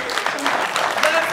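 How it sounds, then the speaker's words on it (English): Brief applause from a Street Fighter V match audience, clapping under a presenter's voice over a short stretch. "Let's have another round of applause for Rups"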